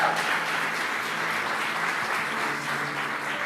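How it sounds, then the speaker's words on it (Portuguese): A church congregation applauding to welcome first-time visitors during a service: dense, steady clapping from many people that fills the room, holding at an even level throughout with no voices over it. "vamos aplaudir os nossos visitantes"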